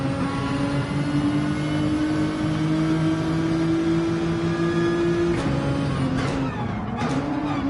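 A racing car's engine in Gran Turismo 7 drones steadily at high revs, its whine holding pitch before dipping and rising again through gear changes, continuous and without any voices.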